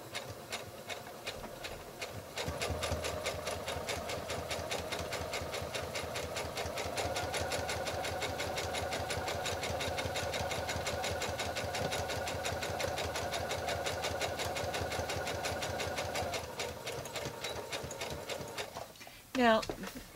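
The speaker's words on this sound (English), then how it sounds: "putting down the presser foot and sewing about 1/8 of an inch" A sewing machine stitches fabric with the presser foot down, running in a steady rapid mechanical rhythm for most of the clip, starting and stopping cleanly. Faint talk sits underneath.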